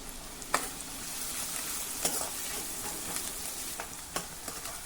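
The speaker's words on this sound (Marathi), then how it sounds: "आता मध्यम आचेवर हे छान हलक्या तांबूस रंगाचं होईपर्यंत आपल्याला परतत राहायचं आहे." Medium onion with crushed ginger and garlic sautéing in oil over medium heat for a Maharashtrian potato curry, a steady close sizzle broken by a few sharp stirring clatters of the spoon.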